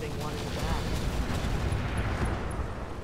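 Mech weapons firing in the Roguetech BattleTech video game, a sustained dense roar of heavy booming and rumbling blasts with a few high metallic pings near the end, under quiet game noise.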